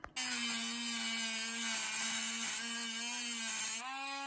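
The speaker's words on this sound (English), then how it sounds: "So I've cut most of the way through with the Dremel" A Dremel rotary tool cuts into a heater hose part from a Saab 9-3 with a high, steady whine. It runs at constant speed close by, then drops in pitch as it slows near the end.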